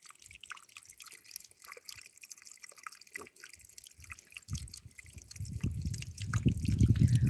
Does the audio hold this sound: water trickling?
yes